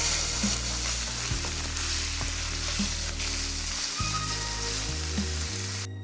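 Ground beef with seasonings sizzles in a pan, a dense, continuous frying hiss at close range, with faint low tones running steadily beneath it.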